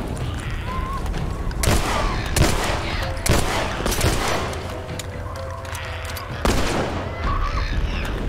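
Gunfire from The Last of Us video game: repeated sharp shots and bursts over a busy, continuous combat backdrop, loud and close, with several heavy reports spaced through the clip.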